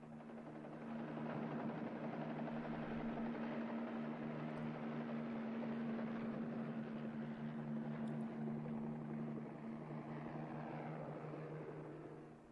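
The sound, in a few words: helicopters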